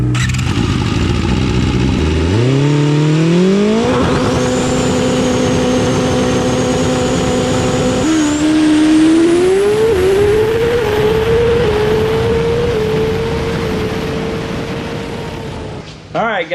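A 2007 Suzuki Hayabusa with 4,000 miles roars through a stock baseline dyno pull, its engine climbing steadily through the gears to a high-revving wail before cutting off, loud and close.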